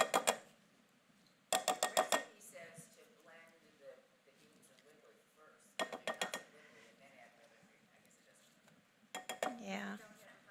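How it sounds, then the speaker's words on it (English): A spoon stirring tomato and green chili pieces in a bowl, heard as repeated rapid clattering bursts of utensil against dish, close and sharp, separated by quieter gaps with soft talking in between. "I'm gonna add my tomato and green chili pieces that I reserved to the bowl, and then just stir it this way."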